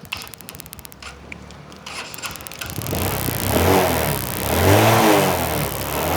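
A second-hand motorcycle engine idles roughly, then revs up loudly in rising surges that swell and ease back, close by.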